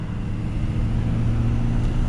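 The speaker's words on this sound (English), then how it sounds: "I love the sound of the Cummins." A Ram pickup truck's Cummins diesel engine running, a steady deep low rumble, close and continuous with no talk.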